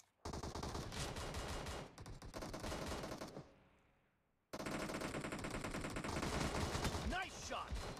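Rapid gunfire from a QBU rifle in the mobile game PUBG Mobile, loud dense bursts of shots that cut out briefly for about a second before resuming, with another voice faintly present.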